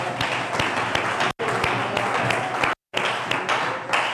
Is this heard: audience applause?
yes